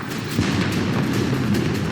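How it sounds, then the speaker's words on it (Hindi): Anti-aircraft guns fire as shells burst around a B-17 bombing raid over the Hamburg oil refinery, a dense, continuous rumbling barrage of booms with no clear gaps, loud and close. "सीधे उनके नीचे तोपें फटती हैं और नर्क टूट पड़ता है"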